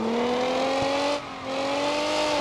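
Damaged car engine leaking oil in BeamNG.drive, a steady loud whining drone that climbs in pitch, briefly dipping before rising again, no voices.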